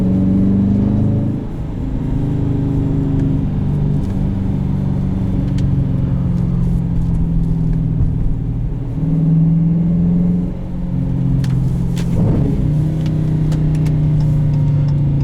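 A 2018 Dodge Challenger Shaker with the 5.7 V8 and manual gearbox rumbles from inside the cabin, its engine swelling in several short rev blips during downshifts between steadier droning stretches.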